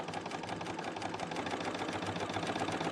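A Bernina L890 sewing machine runs steadily, stitching fabric bunting along a seam guide. Its rapid needle chatter and motor whir are close and continuous, with no talking.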